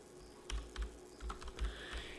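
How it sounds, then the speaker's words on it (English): Computer keyboard typing: a handful of soft, irregular key clicks in short bursts, close and quiet, with no talking. "I'm just typing in."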